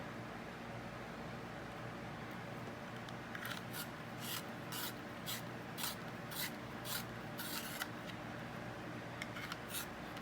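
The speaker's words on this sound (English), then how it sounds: "I'm going to grab my sharpener and my little can that I put my shavings in." A Toggle pencil sharpener grinds a coloured pencil in a quick series of short, evenly spaced scraping strokes, close and fairly quiet, over a soft steady background hiss.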